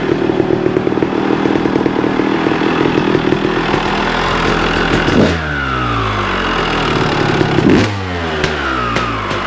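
A 1998 Honda CR250 two-stroke motorcycle engine revs loud and close, buzzing and crackling steadily before dropping off twice in sharp falling sweeps as the throttle is released.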